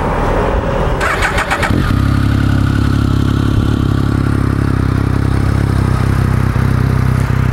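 A Triumph Tiger 1050 inline three-cylinder motorcycle with about 20,935 miles cranks with a brief whirring starter, catches, and settles into a loud, steady idle close by.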